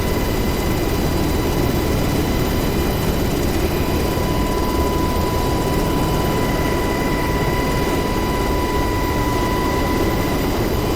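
Steady, loud turbine whine and rotor drone of a UH-60 Black Hawk helicopter's engines in DCS World over the Syria map, a constant unbroken roar with high tonal hums and no talking.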